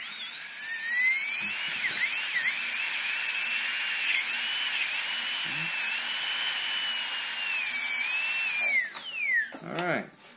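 A dental drill bur prepares a molar for a CEREC crown, making a sustained high-pitched whine that wavers in pitch for about eight seconds before winding down. Faint low talk sits beneath it and short bursts follow at the end.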